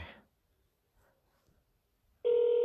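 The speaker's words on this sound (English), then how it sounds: "Now it's ringing." A short burst of noise, then near silence with faint clicks, before a steady electronic telephone ring tone starts loudly near the end, an incoming call during a live talk show.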